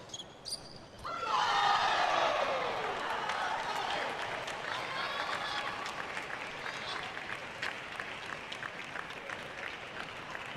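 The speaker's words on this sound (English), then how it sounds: "A bit of applause here for Wang." Applause and crowd noise rise quickly at a women's team table tennis final between Hashimoto and Wang Manyu, a steady mid-distance clapping wash that lingers after a brief early bounce and fades slowly over the next several seconds.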